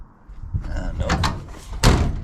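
A car door opened and then slammed shut nearby, with rattling and shuffling before a sharp final thud, and some talking mixed in.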